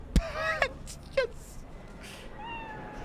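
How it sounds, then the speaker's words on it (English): A cat in the Cyberpunk 2077 video game lets out two or three short, close meows in quick succession, followed by quieter tonal game sounds and a soft background hum. "Can I pet the cat?"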